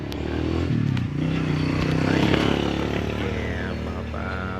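Motorcycle engine running steadily during a back ride outdoors, a loud continuous drone with rattling and scraping, close by throughout.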